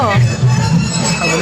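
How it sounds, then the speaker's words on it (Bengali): Dense crowd babble fills a busy reception party, overlapping voices and background hubbub close by, with nearer speech rising over the general chatter. "ভিড় হয়ে গেছে তো।"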